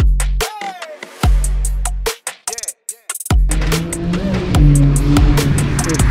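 A Ferrari engine revs hard up close: a few sharp rising blips, short gaps, then a sustained loud, throbbing rumble.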